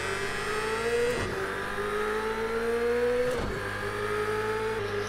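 Race cars at Daytona in the video game Project Cars 2, a steady engine drone with rising pitch as cars accelerate and brief whooshes of cars passing, continuous and moderately quiet.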